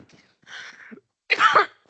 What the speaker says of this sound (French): Je vais bientôt m'arrêter de parler parce que je tousse